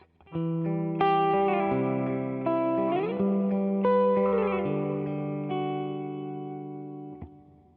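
A clean-toned electric guitar with an EQ pedal on plays a slow sequence of picked notes and chords, evenly balanced and sustained, fading out near the end.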